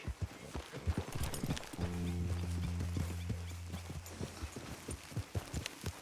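Video game horse hooves clop in a quick, steady trotting rhythm throughout, with a low sustained tone swelling briefly in the middle, from Red Dead Redemption 2.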